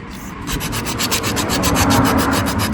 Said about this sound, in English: Once I get it sanded, I'll get a rag and wipe it down really well, both pieces.